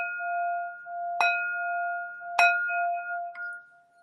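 Two sharp strikes of a bell ring out during Aikido awareness practice, each leaving a long sustained shimmering tone, with a softer third tap near the end, clear and alone in a quiet room.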